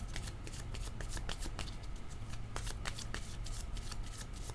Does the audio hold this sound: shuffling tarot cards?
yes